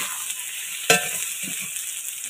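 Ginger paste dropped into a frying pan for a fish curry, a single sharp hit followed by a steady broad sizzle of hot oil with faint stirring scrapes, close and alone.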